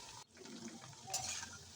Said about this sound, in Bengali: এইভাবে মাঝারি আঁচে আমি ভেজে নিচ্ছি।